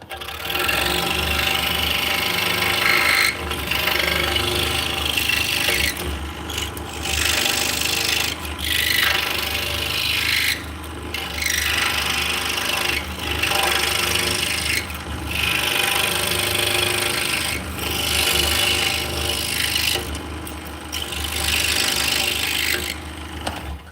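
A wood mortise being cut by hand, with repeated rasping strokes close by in long bursts separated by short pauses.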